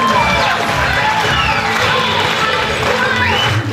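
A crowd at a two-day training workshop in Chhindwara fills the room with loud, continuous cheering and clapping, a dense, close roar that holds steady for several seconds.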